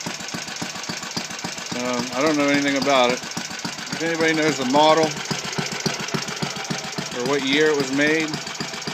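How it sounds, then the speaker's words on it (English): An old Clinton small gasoline engine runs at a steady idle with rapid, even firing pulses close by, while someone talks over it in several bursts. "I got this old Clinton engine running."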